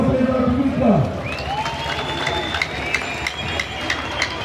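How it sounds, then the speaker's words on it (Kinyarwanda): A crowd at a public gathering in Gicumbi, Rwanda, cheers and claps after a voice at the start. Whistle-like tones and scattered sharp claps rise over a steady roar of noise. "amashyi menshi cyane kuri nyakubahwa perezida wa repubulika"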